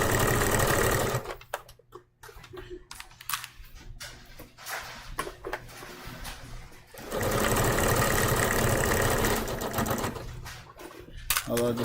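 A sewing machine stitching jersey fabric, running in loud rapid continuous bursts at the start and again in the second half, with a quieter pause of handling noises and faint talk in between.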